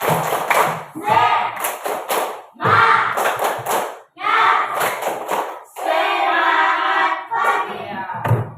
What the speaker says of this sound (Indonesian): Tepuk semangat saja, tepuk semangat.